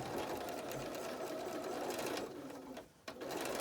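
A sewing machine stitches the lining of a fitted fabric mask. Its motor whirs in a rapid, continuous run, dips and stops briefly near the end, then starts again. It sounds close but fairly quiet.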